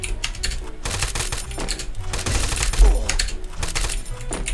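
Rapid gunfire rattles in a shooter video game, with dense bursts of automatic fire layered over a busy game mix and continuing steadily at close range.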